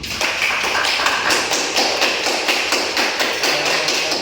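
Classroom applause after a student group presentation, a dense, close clapping of many hands with a steady rhythmic pulse throughout.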